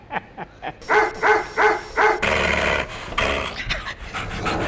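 A dog barks five times in a quick, rhythmic series, loud and close, before busier noise and fainter barks take over.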